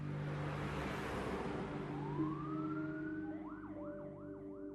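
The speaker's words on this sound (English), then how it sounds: "into the ambulance, and then they sped towards the hospital" An ambulance siren wails in rising and falling sweeps, starting as a long upward glide and settling into a repeating cycle over steady vehicle noise.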